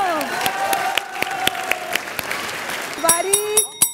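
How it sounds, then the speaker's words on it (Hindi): A small classroom audience claps in scattered, uneven bursts while people talk and call out over the top, with a few louder claps near the end. "ताली बजाओ।"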